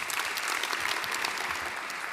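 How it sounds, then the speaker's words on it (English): Audience at an Ubuntu Summit talk clapping steadily, a dense, even round of applause filling the hall throughout. "let's give a round of applause to Kevin"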